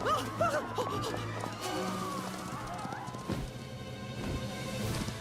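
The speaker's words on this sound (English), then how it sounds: "Why are the horses running so loud?" Horses neigh and hooves clatter in a busy, loud video game mix, with whinnies early on and layered galloping noise throughout, like a game soundtrack.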